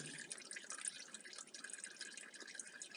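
Used black transmission oil drains from a car in a faint, steady trickle with soft dripping patter, quiet and without talk.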